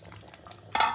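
A metal lid is set over a cooking pot of mutton curry after stirring, giving a sudden bright clatter at the end that follows quiet scraping and simmering sounds.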